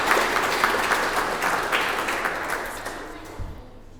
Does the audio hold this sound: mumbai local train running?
no